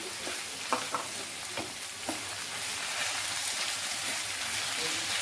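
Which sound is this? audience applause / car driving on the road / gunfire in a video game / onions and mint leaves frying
onions and mint leaves frying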